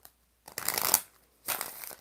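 A deck of tarot cards is shuffled up close in two quick, quiet bursts of riffling, separated by a brief pause, with no talking.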